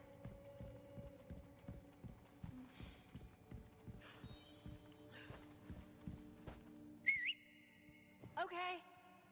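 A person gives two sharp whistles near the end, a high rising note then a second burst, heard over a steady rhythmic clip-clop of a horse's hooves walking on hard ground, fairly close.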